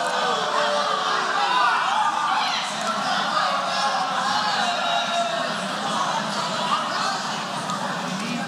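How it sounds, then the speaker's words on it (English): A dense, restless crowd at a caged fight event roars and murmurs continuously in displeasure, a steady wash of many voices filling the arena. "The crowd is not happy."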